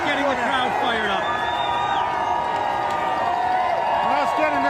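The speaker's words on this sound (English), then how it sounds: "Luke Cornett getting the crowd fired up." Crowd at the 2024 Boston Celtics championship parade cheering and whooping for player Luke Kornet, a dense steady roar with scattered shouts and whistles, close and loud, with people talking over it.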